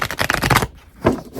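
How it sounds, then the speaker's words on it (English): A deck of tarot cards being shuffled, with a dense rapid riffle of papery flutters followed by a brief pause and a shorter burst of card sounds, close and clear with no talking. "GG on the shuffling, Amy"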